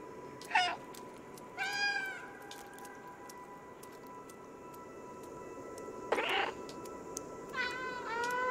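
A cat meows four times with long pauses between calls, each a clear, fairly close wavering cry over a quiet background.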